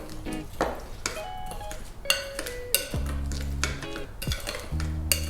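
Oatmeal with almond milk being stirred in a bowl, a spoon clinking and scraping against the dish in quick, irregular strokes, close and fairly loud with no voices.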